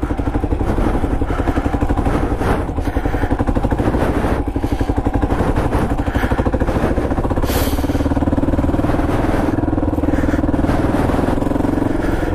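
A dirt motorcycle ridden over rough terrain, its engine buzzing loud and close throughout with rattling and clatter over the top, no talking.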